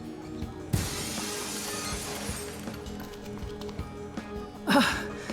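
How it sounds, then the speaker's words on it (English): Glass shatters loudly in a video game scene, its burst muffled by a seat cover, followed by a long scattering tail of broken glass and a second sharp crash near the end. "let's cross our fingers that the seat cover absorbs the noise of the breaking glass"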